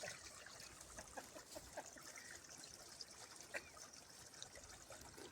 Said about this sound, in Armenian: վերջապես աղբյուր գտանք, այս տարավոր ծառի տակից դուրս է գալի